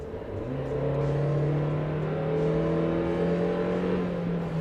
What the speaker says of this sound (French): c'est un moteur atmosphérique. Il se fait très bien entendre quand on monte dans les tours